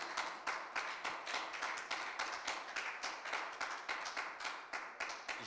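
A church congregation claps in a steady, rhythmic beat of even hand claps at moderate volume, with no voices rising above the clapping.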